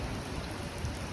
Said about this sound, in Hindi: गाइस मौसम देखो अचानक कैसा हो गया, बारिश आ गई एकदम बड़बड़ बड़बड़।